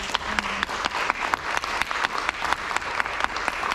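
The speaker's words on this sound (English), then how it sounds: "let's give him a round of applause." Steady applause from an audience, many hands clapping together in a dense, continuous patter for several seconds with no voices over it.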